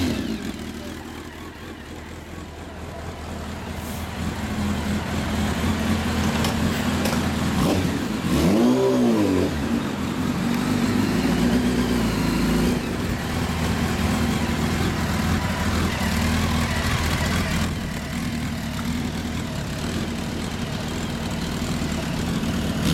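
A 2000 Kawasaki Ninja ZX-12R with an American-made Muzzy exhaust idles with a loud, steady rumble, then revs sharply once in a rising and falling blip before settling back to a constant idle.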